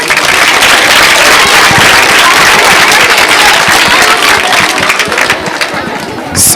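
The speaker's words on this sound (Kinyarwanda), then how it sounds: "Mwamukomera amashyi." A school crowd at Glory Academy applauds a top-scoring student who earned 99 marks, with loud, dense, sustained clapping that carries on for several seconds before easing slightly near the end.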